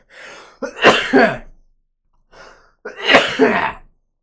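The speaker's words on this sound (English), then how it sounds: "I'm gonna sneeze." A single person sneezes loudly up close, a sharp inhale followed by a forceful burst, then a smaller sniff and a second sneeze.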